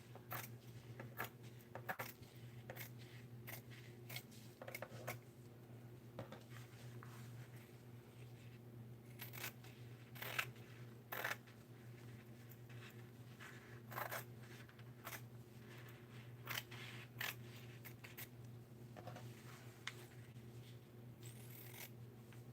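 Quiet, irregular snips and rasping cuts scattered over a steady low hum, with occasional louder crisp strokes and no talking.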